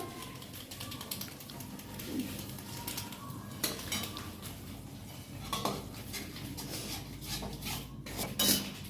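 A spoon stirring turmeric and spices in a metal pan while cooking chana masala, faint scraping and clinking strokes close by, irregular and quiet with a few sharper knocks.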